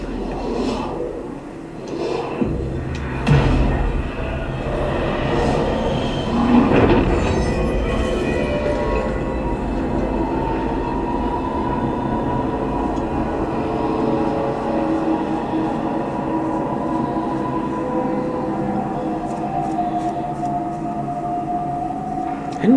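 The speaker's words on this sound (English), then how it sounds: "NYC subway." A New York City subway train roars steadily along the tracks, with rumbling wheels, a rising screech, and a brief loud clatter early on, continuous and close throughout.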